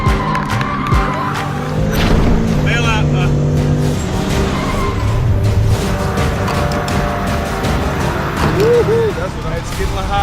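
Drifting stunt cars, one carrying an extra fuel tank in its trunk to refuel the other through a hose, roar loudly and continuously with engine drone and tire squeal, while a voice talks over them.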